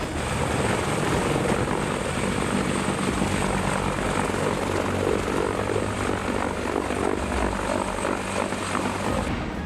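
A CH-53K King Stallion heavy-lift military helicopter, its engines and rotors producing a loud, steady, unbroken roar that holds for the full length without fading.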